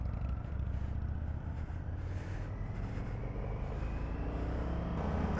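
An older-model Indian FTR motorcycle on a test ride, its engine giving a steady, close, continuous rumble with faint shifts in pitch as it pulls along.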